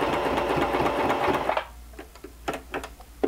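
A sewing machine runs a straight seam while finishing a polo collar placket: a fast, steady mechanical whir for about a second and a half, then stopping, followed by scattered handling clicks and taps.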